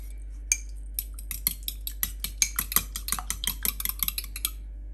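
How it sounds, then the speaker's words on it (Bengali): Eggs with salt are beaten in a bowl, a fork or whisk clicking sharply against the sides in a quick, uneven rapid rhythm of many close taps over a low steady hum. "এখন আমি এর মধ্যে একটু লবণ দিয়ে ডিমটা ভালো করে ফেটে নেব"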